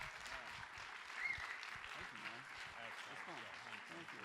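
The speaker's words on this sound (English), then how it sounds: "a big round of applause" Audience applause following an interview in Dubai, a steady broadband clapping wash with a brief swell early on, while voices talk over it throughout.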